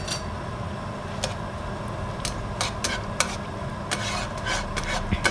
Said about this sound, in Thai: แล้วเราก็ผัดให้ข้าวหอมก่อนนะคะ